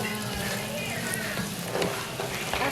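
Anchovies and fresh chili sizzle steadily in butter in a pan as they are stirred, a dense continuous frying hiss with faint scraping.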